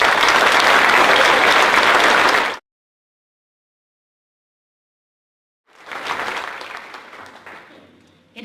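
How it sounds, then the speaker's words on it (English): An audience at a middle school awards ceremony applauds the honors band and honorees, loud sustained clapping that cuts off abruptly, then after a pause resumes more softly and tapers away. "please join me in one more round of applause for our middle school honors band and tonight's honorees"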